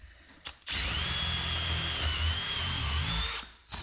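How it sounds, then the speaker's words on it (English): A power drill whines at high speed for about three seconds, drilling a hole in a rim on a Honda Odyssey FL250, steady and close, with short pauses before and after the run. "Just drill a hole"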